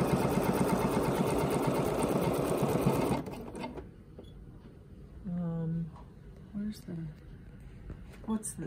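Bernina sewing machine stitching a quilting pattern: rapid, steady mechanical whirring for about three seconds, then stopping, followed by softer clicks and people talking.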